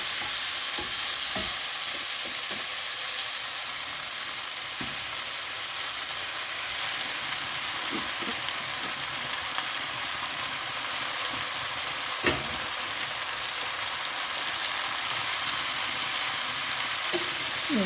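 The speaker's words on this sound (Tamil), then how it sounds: "இந்த கத்திரிக்காயை நல்லா வதக்கிக்குங்க." Eggplant and greens sauté in a pan with a steady close sizzle, broken by the scrape of occasional stirring, and no voices.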